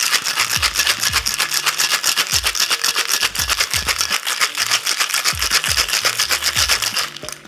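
Cocktail shaker shaken hard while mixing a za'atar margarita, ice rattling in a fast, even rhythm of sharp back-and-forth strokes, close and continuous for about seven seconds.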